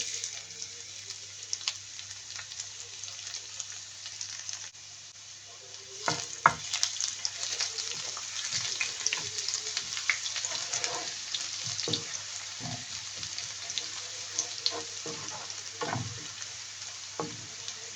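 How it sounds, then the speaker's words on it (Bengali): Chopped garlic sizzling in hot oil, a continuous bright crackle that grows denser after a few seconds, with scattered spatters and occasional stirring knocks, close and steady. "তেলটা গরম হয়ে গেছে, এখন আমি এখানে 3 টেবিল চামচ রসুন কুচি দিয়ে দিচ্ছি।"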